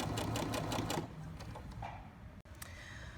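A sewing machine stitches around a fabric pin cushion: a steady, close mechanical whir with rapid needle clatter, loudest at first, then running on a little quieter after a brief pause.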